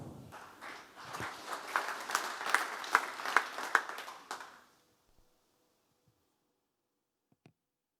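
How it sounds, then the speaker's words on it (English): A demo-day audience at a health startup pitch event applauds the startup Respa Gadgets, a dense burst of clapping with a few louder individual claps that lasts about four seconds and then stops abruptly, followed by near silence. "Please give a round of applause to Respa Gadgets."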